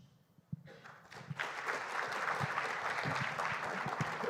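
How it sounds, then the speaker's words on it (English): Audience applause at an education event in South Africa, starting with a few scattered claps and then swelling into full, steady clapping from a large crowd. "Big round of applause."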